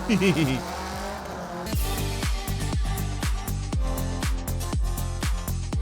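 A rear-wheel-drive short-bodied car drifts on a makeshift course, its tires squealing in repeated bursts over a steady engine roar, with an announcer's voice talking over the start.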